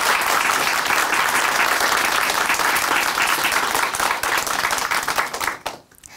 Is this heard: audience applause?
yes